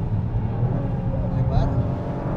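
A fast three-cylinder car engine drives through a bend, its steady droning hum loud and close from start to finish, with a voice talking over it.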